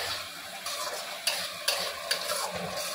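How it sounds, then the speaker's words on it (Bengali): Spice paste for chhanar dalna frying and being stirred in a pan over low heat, with a steady sizzle and soft scraping strokes, close and continuous, with no talking. "মশলাটার গ্যাস কমিয়ে আস্তে আস্তে কষালাম"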